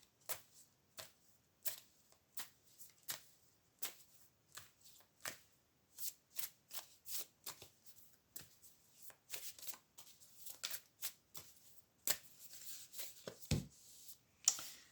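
Oracle cards shuffled by hand, a quiet close run of crisp riffling flicks at an uneven, roughly regular pace, followed by a brief rustle near the end, with no talking.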